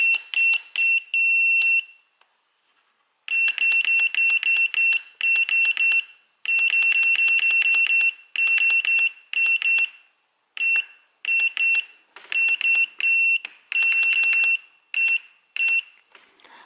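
Flysky TH9x RC transmitter sounding a shrill repeating alarm, bursts of rapid beeps separated by short gaps, loud and close, continuing for the whole stretch without speech.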